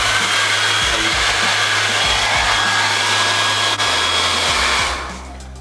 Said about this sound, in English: You just have a blow dryer, turn it on all the way.